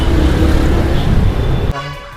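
Busy city road traffic in Bengaluru, loud nearby engine noise with a car horn honking, the horn blast cutting off abruptly near the end.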